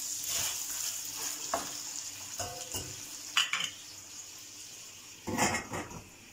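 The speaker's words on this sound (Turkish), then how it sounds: "Etimiz yavaş yavaş kavrulmaya başladı." Meat sizzles and fries steadily in a pan, with occasional scrapes and clinks of a utensil stirring it.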